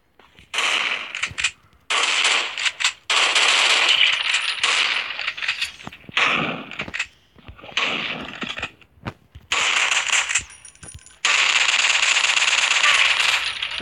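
Rapid video game gunfire in bursts of dense clicking, metallic shots with short silent gaps between volleys, loud and even throughout, with no talking.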